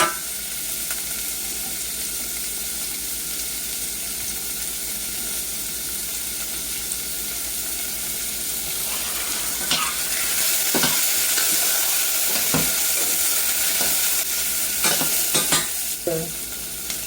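Ground beef frying and sizzling in a pan for a Philly cheesesteak, with a steady hiss throughout and scraping stir strokes clattering more often toward the end.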